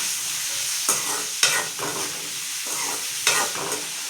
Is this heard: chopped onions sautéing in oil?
yes